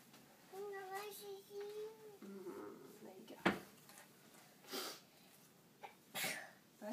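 A single sharp sneeze bursts out mid-clip, close and loud, amid a voice and some background movement.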